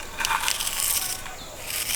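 Crispy deep-fried shredded potato being broken by hand, a short burst of dry crackling and crunching, close and fairly loud with no talk.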